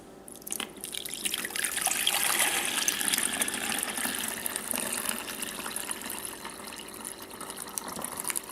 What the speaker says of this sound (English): we're going to gradually pour that through the strainer until I've poured it all through